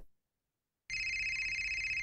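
A mobile phone ringing after a moment of silence, with a steady electronic ringtone starting abruptly and continuing loudly without talk.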